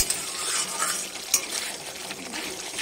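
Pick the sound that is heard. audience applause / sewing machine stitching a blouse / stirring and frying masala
stirring and frying masala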